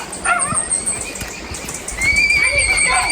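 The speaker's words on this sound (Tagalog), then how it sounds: "Delmar, dira lang ibot ang kabayo" A horse neighs on a mountain farm, a high whinny heard amid outdoor noise with what may be hoof movement and other animal sounds, fairly close, with people's voices around it.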